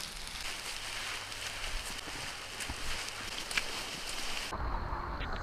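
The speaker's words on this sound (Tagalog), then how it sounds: "It's still raining." Steady rain falls on a mountain day hike on Mt. Apo, a constant soft hiss with faint patter, then a shift in tone near the end.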